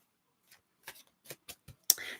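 Tarot cards are shuffled by hand in a few short crisp riffles and taps, close and quiet, with a louder flurry at the end.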